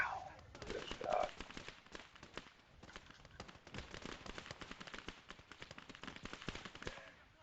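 Lewis gun machine gun firing in the WW1 Eastern Front video game Gates of Hell, a dense clatter of rapid bursts and scattered battlefield shots running throughout the whole stretch at moderate loudness.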